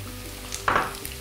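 Salted mushrooms hit a hot pan in which pork tenderloin is also being fried. A brief burst of sizzling rises over a quiet kitchen background, then fades within a moment, with no talking.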